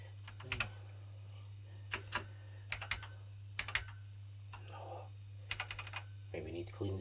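Keys on a computer keyboard being tested, clicked in short bursts of several quick taps separated by pauses, close and crisp over a steady low hum, with a brief murmur near the end.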